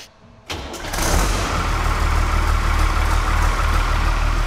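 A turbocharged Fiat engine, fitted with a 110-90 turbo, starts up and settles into a loud, steady run close by, its low rumble dense and continuous, with no clear separate throttle blips.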